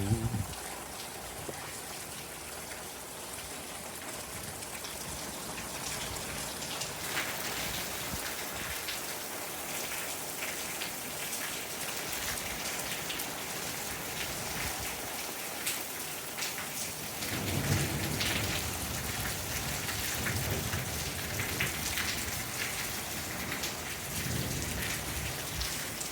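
Monsoon rain pours steadily onto a backyard pool in Tucson, a dense, even hiss of drops striking water throughout, with a low rumble of thunder swelling near the end.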